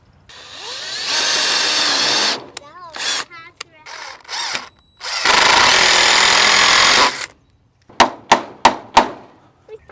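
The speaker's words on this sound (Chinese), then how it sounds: "先用木头夹子把木头固定住，然后就可以拧上螺丝钉了" Power drill driving screws into a wooden beam held with a wood clamp while building a chicken coop frame: two long sustained whirring runs with short bursts between, then four sharp quick bursts at the end.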